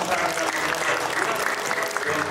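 A church congregation gives steady, dense applause throughout at a Parents' Day worship service, with no pause or break in the clapping.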